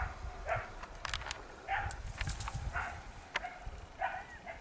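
Dog barking on a mountain hike: a few faint, distant barks spaced about a second apart over outdoor wind and rustling.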